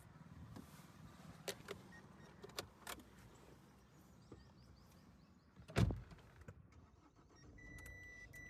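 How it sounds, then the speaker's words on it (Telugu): A 2019 Mahindra XUV300 W6 SUV is started. Faint clicks and key or door handling sounds come first, then a brief loud crank and catch as the engine fires. A quieter hum follows. "కార్ అయితే స్టార్ట్ చేశాను"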